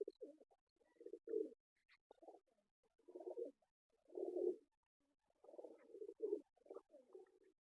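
A crested male pigeon coos in a string of soft, low, throaty phrases with short pauses between them, close by in a quiet setting.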